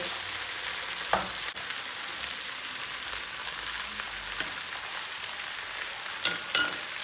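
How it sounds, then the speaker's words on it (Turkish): Green beans tossed with onions in oil sizzle steadily in a pan, a constant close frying hiss broken by a few scraping stirs, with no voices. "Fasulyeyi attık şöyle iyice bir çevirelim. Her tarafına soğanları yağ bir karışsın."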